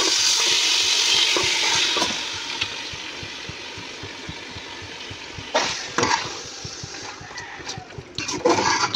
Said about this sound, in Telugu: ఇందులో మ్యారినేట్ చేసుకున్న చికెన్